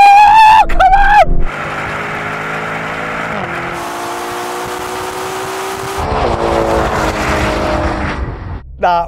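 Ferrari Purosangue and Lamborghini Urus Performante drag racing, engines revving hard and surging through gear changes, loud and close, with a sharp burst at the start and end.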